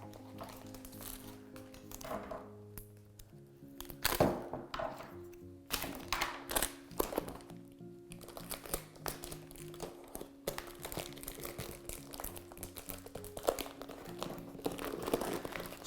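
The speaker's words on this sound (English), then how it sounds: "I'm going to put a piece of tape along the bottom here." Crinkly tearing and pressing sounds, close up, of packing tape being pulled and smoothed down onto a shoe, with scattered thumps and rustles throughout.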